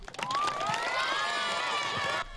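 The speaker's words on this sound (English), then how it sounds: "Cheers for the final day of school at Honeywell Elementary." An elementary school crowd of children and adults cheers on the last day of school, a dense, sustained roar of high shouts and screams that holds steady for a couple of seconds before cutting off.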